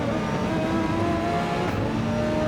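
A race car engine in a racing video game at the Red Bull Ring revs hard and steady, a dense continuous roar of constant loudness throughout.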